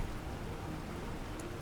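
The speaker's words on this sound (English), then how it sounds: "Oh, nice, it's raining." Steady rain falls in the video game Planet Crafter, a continuous close hiss of droplets with no voices over it.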